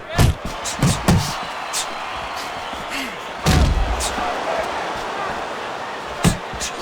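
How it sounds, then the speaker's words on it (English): Punches landing in the Fight Night Champion boxing video game: irregular heavy thuds and slaps, several close together, then a big hit, over constant crowd noise. "Frazier lands a big uppercut."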